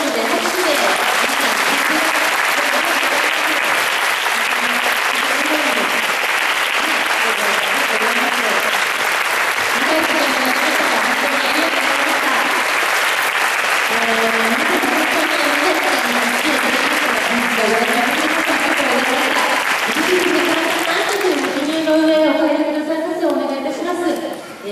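An audience bursts into sustained applause at the end of the second part of a gathering, dense clapping continuing for a long stretch while an announcer speaks over it near the end.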